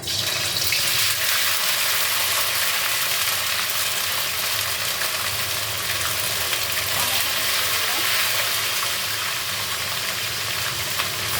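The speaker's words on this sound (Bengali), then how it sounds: "এটা নিরামিষের রান্না, তাই তেলে একটু হিং ফোড়ন দিলাম, তারপরে আদা দিয়ে দিলাম," Asafoetida and then ginger sizzle in hot oil for a vegetarian dish, making a steady, close, hissing crackle that carries on evenly throughout, with no talk.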